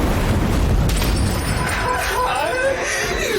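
A grenade blast in Strange Brigade, a loud booming explosion with a rumbling tail that fills the moment, with game voices talking through and after it.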